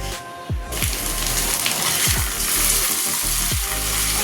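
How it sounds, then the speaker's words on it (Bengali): Potatoes fry in a frying pan with a loud, continuous sizzle, punctuated by several scraping stirs of the spatula, close and without speech. "একটু আলু ভাজবো, তাই ফ্রাই প্যানেই ভাজতে বসে দিয়েছি।"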